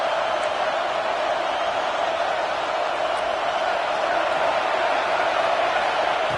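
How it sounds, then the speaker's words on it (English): A stadium crowd in a football video game roars in a steady, continuous wash, loud and unbroken throughout without any clear peaks. "And this crowd coming to life here, trying to help the defense get a stop"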